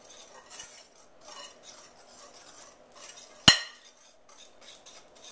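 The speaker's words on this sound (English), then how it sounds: "I have a whisk. I'm just going to whisk this to mix it all together." A whisk stirs flour, sugar, salt, baking powder and cinnamon in a bowl for doughnut batter, giving soft, quiet brushing strokes with one sharp clink of metal against the bowl partway through.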